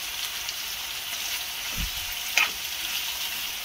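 Masala with tomatoes and almonds stirred in a pan, a steady close sizzle running throughout with a couple of brief scraping knocks from the spoon partway through; no voices.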